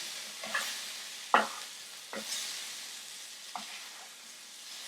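Spanakopita burgers frying in a pan, a soft steady sizzle with a few sharp pops and stirring clicks, close and fairly quiet, no voices.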